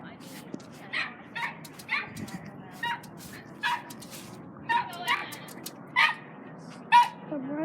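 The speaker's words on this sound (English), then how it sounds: "I'm watching the dog." A dog gives a series of short, repeated barks and whimpers at a fairly close distance. They come in uneven bursts over a low, quiet background.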